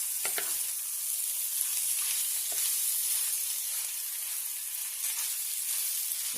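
Onions frying and caramelizing in a pan for meatball gravy, a continuous bright sizzle and hiss with a few light stirring scrapes, close and steady, no voices.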